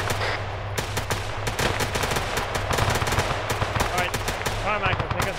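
Rapid bursts of gunfire in a military video game, dense machine-gun and rifle shots crackling close and loud, with voices talking over the shooting.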